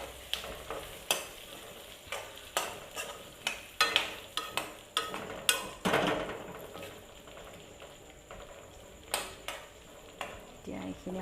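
Chicken curry fries on low heat in a kadai, a soft sizzle under repeated sharp scrapes and clacks of a spatula stirring against the metal, close by, with quieter gaps between bursts of stirring.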